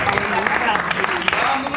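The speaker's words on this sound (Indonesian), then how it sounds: "Kamu dilarang tepuk tangan." A studio audience at the taping of a comedy show claps briefly, a short burst of mixed applause blended with talking and laughter.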